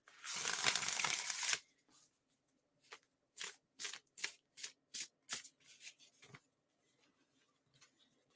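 A long riffling rush of tarot cards being shuffled, followed by a series of soft, evenly spaced taps and slides as the deck is handled up close.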